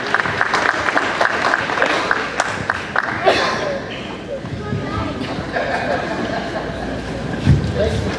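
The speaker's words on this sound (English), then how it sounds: "Let's give Jesse a round of applause." A seminar audience at a Texas Longhorn beef producer event gives a short burst of applause that quickly fades into chatter, laughter and general crowd murmur, with people talking throughout.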